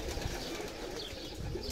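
Pigeons coo softly at a pigeon farm in Saudi Arabia, with faint low calls over a steady hiss of background noise.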